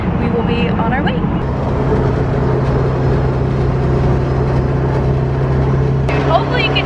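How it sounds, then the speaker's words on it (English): A loud K24-swapped Honda S2000 drives along a road, its engine droning steadily with a low, sustained tone throughout, with brief speech-like fragments near the start and end. "Hopefully you can hear me over how loud the car is now."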